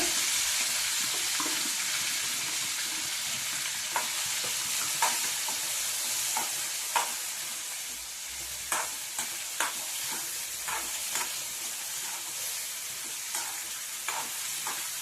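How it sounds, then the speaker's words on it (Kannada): Prawns fry in oil with masala and curry leaves, a steady close sizzle under intermittent scraping and stirring taps from a spoon in the pan. "ಇದು ಮಸಾಲ ಎಲ್ಲ ಇಂಗುವರೆಗೂ ಬಾಡಿಸ್ಕೋಬೇಕು ಎಣ್ಣೆಲೆ"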